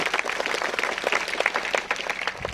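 Audience applause at a live Marathi stage performance, a steady crowd of clapping hands sustained and fairly soft, with no voices over it.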